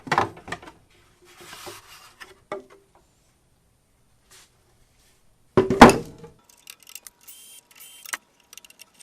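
Plastic covers are pulled off a Hobart Champ 140 welder generator, sparse clicks, rattles and scrapes up close with quiet gaps, and one louder clattering snap of plastic near the middle.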